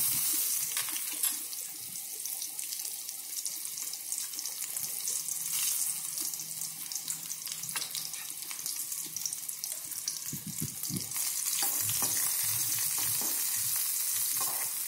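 Onion fries in hot oil with mustard seeds and cumin for poha, giving a steady, close sizzle with occasional stirring scrapes and clatter throughout.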